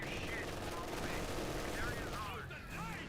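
Rifle grenade and gunfire in the video game Company of Heroes 2, a dense, continuous rattle of distant combat with layered shots and explosions that carry on without pause throughout.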